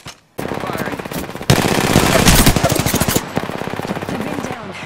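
Automatic weapon fire in the video game Apex Legends, rapid rhythmic shots in sustained bursts after a short silent start, loud and close, with a louder stretch in the middle before it eases slightly.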